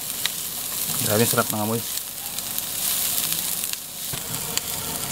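Garlic and onion sauté in a hot pan, giving a steady close sizzle with occasional stirring scrapes, while a voice speaks briefly over the frying.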